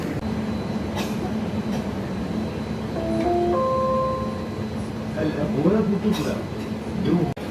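Dubai Metro train rumbling along with a steady hum, brief tonal chimes or whine partway through, and people talking faintly in the background.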